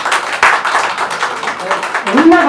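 Members of a rural municipality assembly in Nawalparasi clap together in a hall, a dense, continuous patter of applause with a voice speaking over it.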